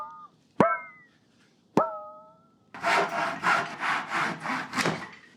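A hand saw cuts wood: two sharp ringing taps on the blade first, then a rhythmic series of close rasping strokes.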